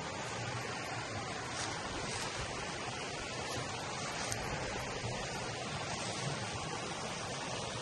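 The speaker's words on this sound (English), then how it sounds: "We're right next to the creek here," A river rushes beside a creek-side campsite, a soft, constant hiss of flowing water with no break, faint and steady throughout.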